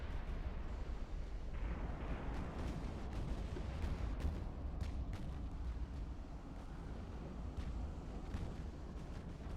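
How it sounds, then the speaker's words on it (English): Torpedoes strike a warship in the naval battle game Ultimate Admiral: Dreadnoughts, heard as deep, continuous explosive rumble with scattered sharp cracks over a steady low roar. "Fido took some torpedoes."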